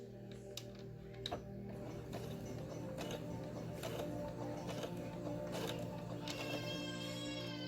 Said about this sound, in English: Now you're going to start sewing. Always backstitch.